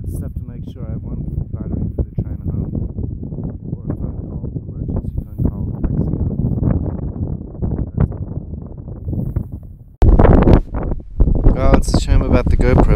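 Strong wind gusts buffet the microphone at a lakeside campsite in Haugastøl, a loud, rumbling roar that continues under someone speaking throughout.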